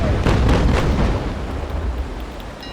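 Chain shot cannon fire in the Naval Action naval combat game, a deep, heavy broadside boom that rumbles loudly and then fades away slowly over a few seconds.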